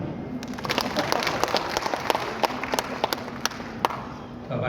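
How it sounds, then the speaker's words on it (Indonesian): An audience at an exhibition opening at the Four Points Sheraton in Makassar claps in a scattered, moderate round of applause, with individual hand claps standing out over a steady crowd wash. "Tepuk tangan dong."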